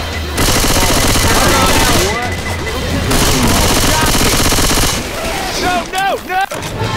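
Rapid bursts of video game gunfire crackle loudly in dense volleys with heavy booms, pausing briefly before another round of shots and sharp sound effects near the end.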